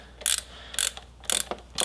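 A 9mm socket ratchet loosening hose clamps on the M104 engine of a Mercedes C36 AMG during a water pump job: four short bursts of rapid metallic clicking, close and fairly quiet, with pauses between them.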